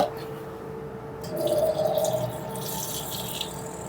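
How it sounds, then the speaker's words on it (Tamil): Water pours briefly into a mixer jar holding ground curry ingredients, a short trickling splash in a home kitchen after a moment of quiet, then faint background hiss. "தண்ணி சேர்த்துக்கோங்க."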